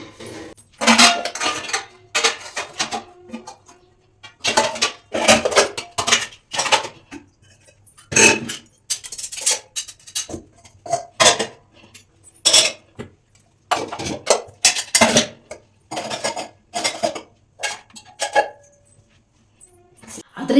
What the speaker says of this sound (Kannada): ಪಾತ್ರೆ ತೊಳೆಯೋದು ಕಷ್ಟನೇ, ಜೋಡಿಸೋದು ಅದಕ್ಕಿಂತ ಕಷ್ಟ